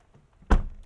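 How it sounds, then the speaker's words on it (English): The heavy door of a 2012 Honda Fit base model closes with a single solid, close thunk, followed by a short fading resonance. "Heavy door."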